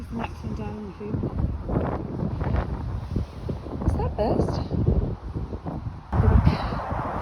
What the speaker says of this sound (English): Very windy here, but fabulous view.